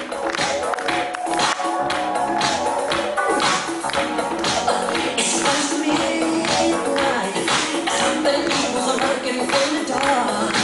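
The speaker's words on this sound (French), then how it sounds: "Je vous demande de l'applaudir très fort" An audience at a holiday club stage show applauds, a dense, loud wash of clapping that carries on throughout with some voices mixed in.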